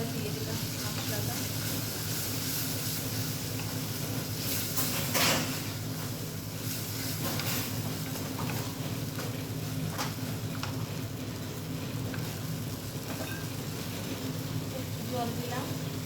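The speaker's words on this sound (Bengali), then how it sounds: "এবারে আমি এর মধ্যে দিয়ে দেবো একটু কাজু, আর যে জিরে বাটাটা ছিল ওটা দিয়ে দিলাম মশলাটা।" Cashews and ground cumin paste sizzling in hot oil for a potato and pointed gourd curry, a continuous hissing fry with clinks of utensils, under someone talking throughout.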